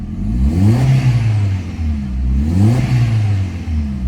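Mk4 Jetta with the 1.8T turbo engine revving twice in a shop, each rev rising and falling in pitch with a clattering exhaust, loud and close with no talk.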